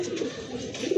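Jade spring pigeons at a pigeon sale give soft, low cooing calls, a couple of short rounded coos close by over quiet background hiss.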